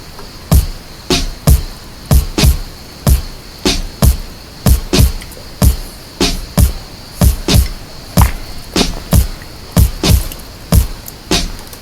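A steady, loose-swinging hip hop drum beat of punchy hits repeating throughout, with a bright high-pitched layer running on top and no voices.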